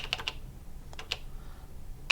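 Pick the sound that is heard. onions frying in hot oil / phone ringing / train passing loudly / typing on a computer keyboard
typing on a computer keyboard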